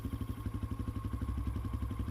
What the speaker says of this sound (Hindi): राघव ने बाइक की स्पीड और बढ़ा दी।